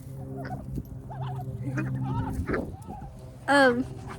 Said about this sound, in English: Here's my ducks.